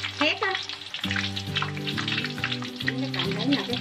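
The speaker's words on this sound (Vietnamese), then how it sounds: "Mình sẽ chiên ít ít chút thôi các bạn, chứ mình đừng có chiên nhiều quá" Sweet potato pieces sizzle and crackle steadily as they fry in hot oil in a home kitchen, loud and close throughout, with a sustained tonal hum layered underneath and no talking.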